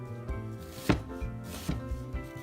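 Knife cutting food into thin slices on a board, a few soft close taps in an irregular rhythm with one firmer stroke, quiet and alone.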